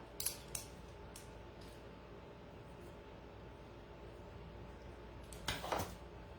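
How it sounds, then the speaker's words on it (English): Scissors snip through organza fabric during a pumpkin decorating craft, with a few quick crisp cuts at the start and another short cluster of snips near the end, all quiet and close against a faint background hiss. "Okay, and I'm going to cut my organza."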